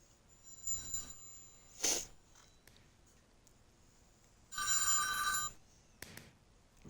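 A telephone rings in a quiet room during a Minecraft session, sounding in a few separate bursts, one short chirp near the start and a longer, louder ring later, with faint tones between and no talk.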